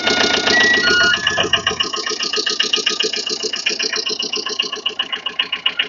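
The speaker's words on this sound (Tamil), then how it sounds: "ஸ்டார்ட் பண்ணதான் எப்படி இருக்குன்னு பாருங்க வண்டி ஸ்டார்ட் ஆயிடுச்சு" A Tata Magic mini truck engine catches with a brief start burst, then settles into a steady, rhythmic idle that continues close by and alone.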